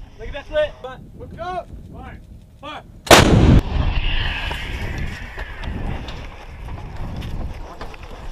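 A US M777 howitzer fired live: one huge, close blast booms out and rolls away into a long rumbling echo, after distant shouted voices and followed by wind noise.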